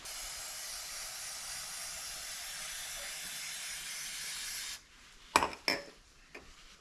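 Chain cleaner sprayed from an aerosol can onto a bicycle chain: a long, steady, close hiss lasting several seconds, then it cuts off and a few short sharp clacks and knocks follow.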